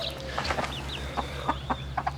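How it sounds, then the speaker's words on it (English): Farm chickens clucking close by, with short scattered clucks and a few higher squawks over a steady low hum. "We've got a whole bunch of chickens"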